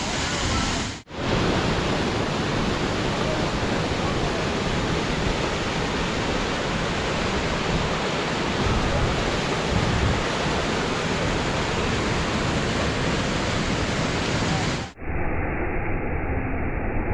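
Loud, steady rushing water of the Tropic Ditch waterfall at Mossy Cave, Bryce Canyon, fills the scene, a dense continuous roar close by that cuts off abruptly near the end.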